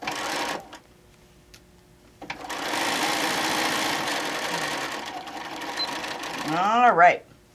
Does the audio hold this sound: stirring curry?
no